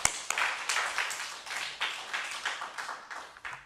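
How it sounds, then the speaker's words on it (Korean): A church congregation at a Friday all-night worship service claps in a steady, quick rhythm, the sharp claps repeating evenly for several seconds at moderate volume with no voices over them. "하나님께 영광의 박수 돌립니다."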